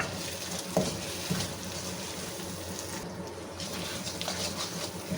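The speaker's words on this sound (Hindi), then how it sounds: "और इसे हम भून लेंगे।" Spice masala for mutton keema frying in a pan, a soft continuous sizzle with a few faint stirring knocks, fairly close but low in level.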